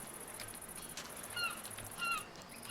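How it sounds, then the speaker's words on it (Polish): Seagull calls in a modded Minecraft world, a few short bright cries over a faint ambient background, heard alone without talk. "Słychać mewy, mimo że ich tu nie ma XD"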